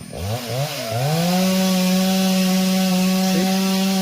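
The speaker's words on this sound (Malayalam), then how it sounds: "They are cutting this tree and now they will pull and this tree will come down, will fall down." A chainsaw cuts through a standing tree in a village, its engine revving up and then holding a loud, steady, close whine with a brief dip near the end.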